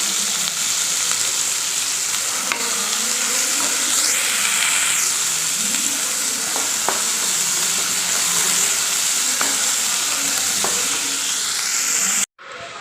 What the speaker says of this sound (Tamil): வெங்காயத்துலேயே இதையும் சேர்த்து நல்லா வதக்கலாங்க வந்து வெங்காயம் நல்லா வதங்கட்டும்